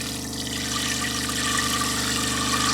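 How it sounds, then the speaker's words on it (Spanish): Water pours into a cooking pot at a campsite, a steady, loud, close rush with a hollow gurgling tone that continues without a break. "Ponemos agua en la olla."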